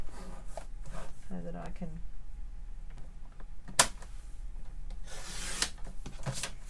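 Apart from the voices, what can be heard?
paper trimmer cutting card in half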